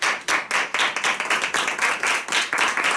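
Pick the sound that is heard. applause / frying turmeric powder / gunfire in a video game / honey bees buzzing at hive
applause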